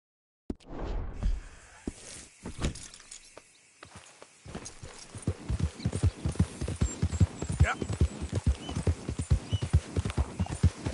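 Horse hooves clip-clopping in Red Dead Redemption 2, a steady rhythm that starts after a brief pause and builds into a fast, close, loud run, with a short voice exchange near the start.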